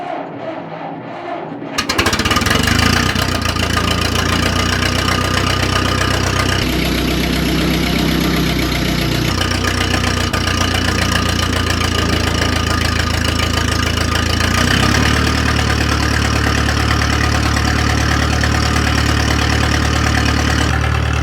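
A TEA 20 Ferguson tractor engine catches and settles into a loud, steady idle after a choked start, with a continuous rhythmic knock running close by for about twenty seconds and no talking.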